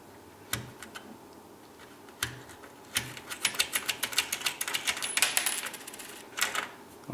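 Small bolts being removed from an MDA guitar pedal after its knobs are pulled off: sparse metallic clicks and ticks at first, then a quick flurry of tiny rattling taps, close and fairly quiet with no talking.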